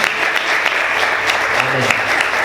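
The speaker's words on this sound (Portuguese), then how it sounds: "Aplauda o Senhor bem forte, graças a Deus." A church congregation applauding, a dense burst of many hands clapping at close range, with a voice speaking over it partway through.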